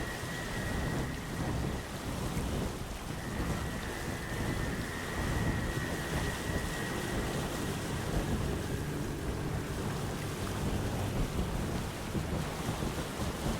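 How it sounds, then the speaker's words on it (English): A constant roar of heavy rain with rumbling thunder fills an ever-raging storm surrounding islands in the video game Windbound, loud and unbroken with no voices. "the ever-raging storm that surrounds the islands"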